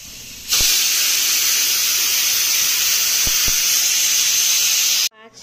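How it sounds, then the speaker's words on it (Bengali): Fish curry gravy boiling hard in a pan on a kitchen stove, giving a steady loud close hiss and bubble that starts suddenly and runs unbroken for several seconds before cutting off. "দেখো ফুটেছে ঝোল।"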